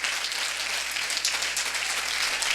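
A church congregation applauds during a worship service, a steady, fairly distant wash of many hands clapping together without a break.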